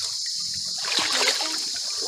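Water rushes and splashes in a steady, close hiss, growing a little fuller midway through with no clear pauses.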